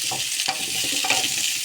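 Squash stirred in a tilting frying pan, a steady bright sizzle of frying with soft scraping stirs and small clinks close up, no talking.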